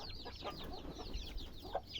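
Chickens cluck softly and intermittently while pecking at chayote fruit, quiet scattered clucks and short calls at close range with no talking.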